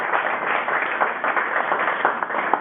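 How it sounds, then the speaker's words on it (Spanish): A church congregation applauding during a Spanish-language worship service, a dense, continuous clapping of many hands at an even level throughout. "Dale un fuerte aplauso al Señor antes de iniciar"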